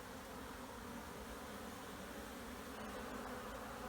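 Honeybees buzzing and flying around a farm hive, a dense steady hum of many insects close by with no voices.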